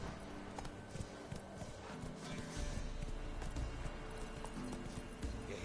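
Horse hooves clip-clop at a steady trotting rhythm in The Witcher 3 video game, close and continuous over a dense bed of outdoor ambience.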